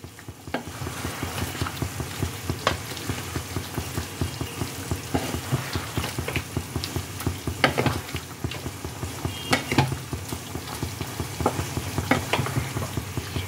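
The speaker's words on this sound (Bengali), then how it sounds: "ফ্রেশ ক্রিমটাকে এবার ঝোলের সাথে ভালো করে মিশিয়ে নিতে হবে।" Fresh cream being stirred into a simmering chicken gravy for methi chicken, heard as a steady close sizzle with repeated spoon scrapes and stirs throughout, and no talking.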